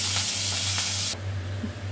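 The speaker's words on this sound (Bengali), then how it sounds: "মাছের মুড়োগুলো আমার ভাজা হয়েই যাচ্ছে।" Fish heads fry in hot oil for a Bengali muri ghonto with a loud, steady sizzle that drops to a softer hiss partway through.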